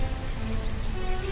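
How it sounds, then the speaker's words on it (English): Steady rain falling in the village-building game Banished, a continuous soft patter spread evenly through the clip with no pauses or voices. "the rain sound effect in the backgrounds"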